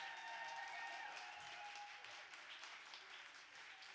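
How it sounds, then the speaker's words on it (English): Audience at a year-end showcase applauding the studio team, a continuous round of clapping heard somewhat distant and soft, with no one speaking over it. "So please, everybody, give them a round of applause for all the hard work."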